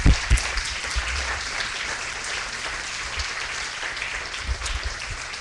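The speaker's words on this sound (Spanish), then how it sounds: "para el doctor Gustavo Repetti pediría un fuerte aplauso" A conference audience applauds its guests at a social work talk, with dense, steady clapping and a few louder bursts near the start that holds for the whole stretch.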